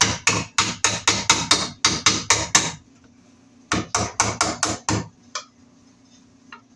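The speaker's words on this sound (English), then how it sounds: "We'll get our box nailed onto our stud here." Rapid, loud hammer blows drive nails to fasten a nylon electrical box onto a wooden stud, in two close bursts of about eight strikes each separated by a short pause, with no talking.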